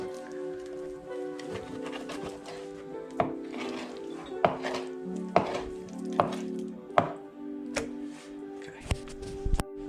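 Knife strokes cut pork shoulder into pieces on a board, a series of irregular close sharp chops and taps, fairly quiet, with no speech.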